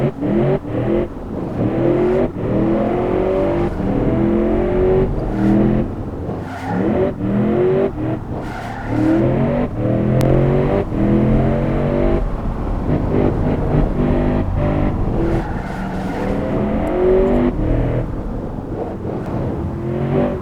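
A big UPS delivery truck in the Automation car-building game accelerates hard down a test track, its engine droning steadily and loudly with rising gear pulls and shifts over about twenty seconds, no one talking.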